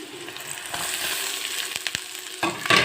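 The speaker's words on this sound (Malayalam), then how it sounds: "ഇനി നമുക്ക് ഇതിലേക്ക് തേങ്ങ ചേർത്ത് കൊടുക്കാം കേട്ടോ" Onion with salt and freshly added grated coconut sautéing in a pan for a drumstick-leaf thoran, a steady close sizzle broken by a few sharp scraping stirs toward the end.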